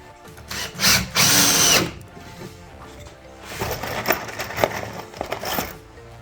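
A power drill drives screws into wood slats on a modern slat-top outdoor bench, with two loud close bursts early on, followed by quieter scraping and handling of the wood.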